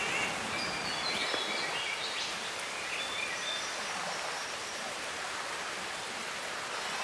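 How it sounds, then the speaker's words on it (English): Baxter Creek flowing beside a hinterland walking track near Baxter Creek Falls, a steady broad wash of running water with faint birdsong over it, continuous and even throughout. "Very pretty little creek, Baxter Creek, which of course is what the falls were named after."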